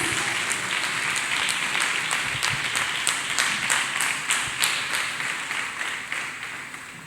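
A church congregation clapping hands in praise, loud sustained applause with a roughly regular beat of sharper claps standing out through the whole stretch, no talk over it.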